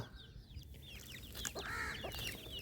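Aseel hens and their chicks cluck and peep in a flock, with soft high chirps and low clucks mixed together at moderate distance and no talking.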